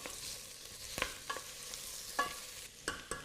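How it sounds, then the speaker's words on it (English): Base vegetables for a vegan ramen fry gently over medium heat in a pan, giving a soft steady sizzle broken by occasional scraping stirs of a utensil, with no talk. "I'm going to bring that heat down to medium heat and just slowly sort of fry that off"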